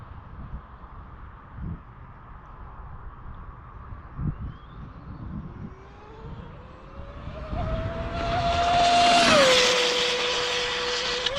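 Arrma Limitless V2 RC car on a race track speed run, a thin electric motor whine that rises in pitch as it accelerates, peaks loudly close by, then drops and holds steady amid wind noise.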